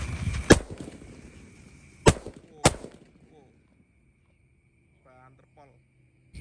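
Four purple disco firecrackers lit at once at night go off in three sharp, loud bangs spaced about a second apart, each trailing a crackling fizz, followed by near silence and faint chirps.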